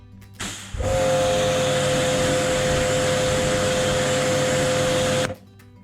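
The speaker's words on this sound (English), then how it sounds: "when we use the pressure washer, you'll hear the pump actually kick in" A Karcher K5 pressure washer pump starts up and runs steadily with a loud, constant droning hiss and mechanical whine for about five seconds, then cuts off.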